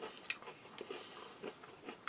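Crisp bites and chewing on a broken cheddar cheese oat biscuit, several close crunches scattered irregularly with quiet pauses between, no talk.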